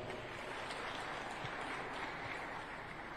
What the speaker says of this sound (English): Another round of applause for our Honorable Professor.